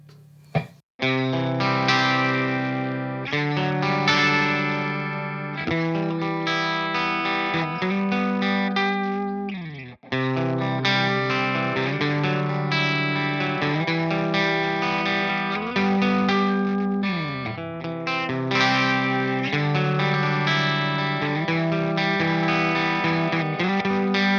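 A clean, bright electric guitar through a Universal Audio Knuckles 92 amp pedal rings out in strummed chords and arpeggios with a jangly, chiming, shimmering tone, playing steadily on its own.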